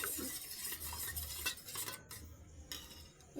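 Eggs being mixed in a bowl, a busy scraping and clinking of utensil against the bowl in quick, steady strokes, close and fairly loud with no talking.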